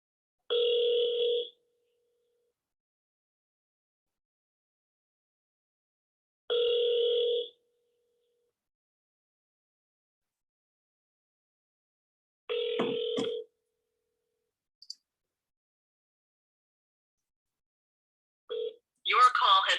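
A phone call rings out with three evenly spaced ringback tones, each about a second long, then a brief click and the start of an automated line cutting in.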